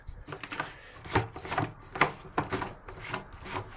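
Plastic threaded fitting on a swimming pool pump being screwed in by hand, giving a series of dry, scraping rubs and creaks in short uneven bursts, close and fairly quiet, with no talking.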